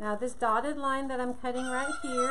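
Chickens cluck and squawk in high, warbling calls close by while a person speaks over them.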